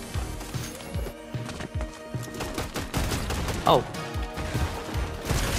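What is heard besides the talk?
shotgun firing in Fortnite video game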